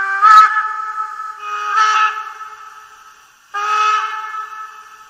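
Three short steam whistle toots from a brass Gauge 1 model BR 81 steam locomotive sound in a row, each a clear tonal blast with a breathy edge, separated by pauses.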